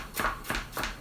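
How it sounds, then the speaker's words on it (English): A knife chopping a carrot on a cutting board, three evenly spaced, close and solid chops. "I am going to go ahead and start chopping up this carrot here"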